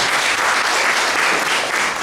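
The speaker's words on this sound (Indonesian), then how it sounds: "Kasih tepuk tangan buat Tuhan Yesus." Congregation applause for Jesus during a church service, a dense, steady wash of many hands clapping that fills the whole span at full loudness with no pauses.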